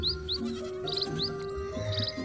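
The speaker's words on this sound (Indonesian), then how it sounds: "Kawanan kambing mengindik serempak, membalas sapa dari pipit yang baik hati." Bleating farm animals call in short bursts amid a busy morning scene, with small birds chirping high over the top of a low, continuous background.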